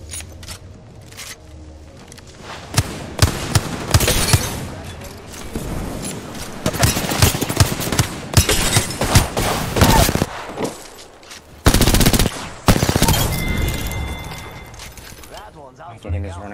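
Mastiff shotgun blasts in a video game firefight, a series of loud sharp shots in clusters among other gunfire and game noise, with a voice talking throughout.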